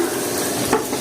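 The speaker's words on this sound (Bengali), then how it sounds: "এই যে শুকনো মরিচটা এবং রসুনটা ভাজা হয়ে গেছে" Dried red chilies and garlic fry in a pan, making a steady, close sizzle with a brief scrape of stirring. The oil is for a restaurant-style kala bhuna.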